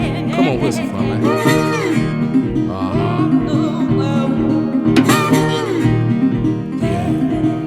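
A blues harmonica imitates a train whistle with bending, wailing notes over a steady chugging rhythm, loud and close, with a guitar-like accompaniment underneath.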